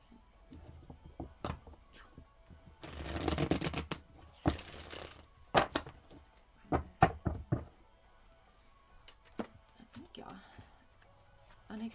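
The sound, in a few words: shuffling tarot cards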